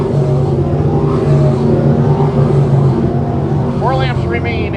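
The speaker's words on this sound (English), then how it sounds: "So Hennessy's got about a straightaway before he catches George Sanford as they go to turn number 3 and 4" 602 crate sprint cars race around Can-Am Speedway, their engines droning loudly and continuously, with a commentator talking over them.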